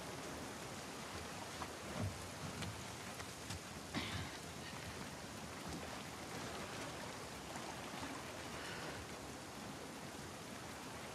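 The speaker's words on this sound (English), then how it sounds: "Let's get out of the rain." Steady rain falling through a scene in the video game The Last of Us Part II, a dense continuous hiss of drops on surfaces with a few louder patters, moderately close and alone without voices.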